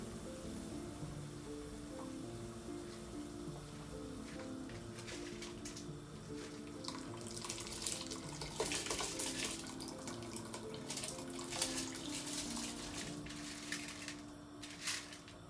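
Rice being washed under running tap water, a faint steady stream with swishing and splashing that swells in the middle, heard close and alone.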